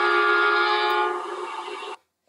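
Short train horn sound effect used as a page-load cue for a rail travel page: a loud sustained horn blast that fades slightly before stopping cleanly, with nothing heard afterward.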